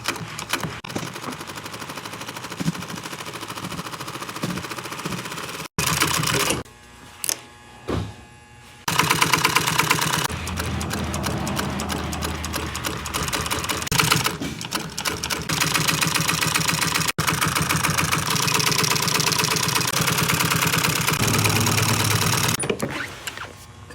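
A sewing machine stitches upholstery for a pontoon boat captain's chair, running in loud, rapid mechanical bursts with brief pauses between runs, close and dominant throughout.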